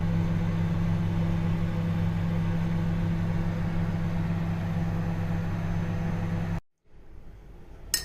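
A microwave oven hums steadily while melting cooking chocolate in a bowl, a constant low drone for several seconds that cuts off abruptly, followed by quiet room noise and a faint click at the end.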